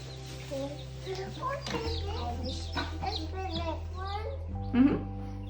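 Baby chickens clucking and peeping on a homestead, soft chirps scattered across the moment while people talk nearby.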